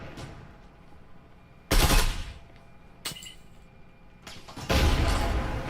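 A gunfight in the game Breachers, with loud bursts of automatic gunfire that come in several separate volleys between quieter gaps. The last burst is the longest and keeps going through the end.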